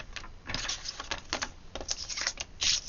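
Paper card being cut to 14 centimetres on a square cutting mat for a puzzle fold card, heard as a string of close, quick scraping and clicking strokes with no talking.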